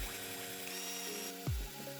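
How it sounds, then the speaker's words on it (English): Power drill boring through the rivets on the bottom of a PC case, a steady whirring drone with a sharp pitch drop and thump near the end as the bit breaks through, close and alone. "drill through these 5 rivets on the bottom of the case"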